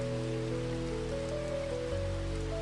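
Steady rain falls outside an open window onto a tree-lined old street, a soft continuous wash that sits under sustained, droning musical tones throughout.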